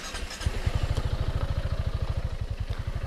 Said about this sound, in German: Wir starten den Roller mal.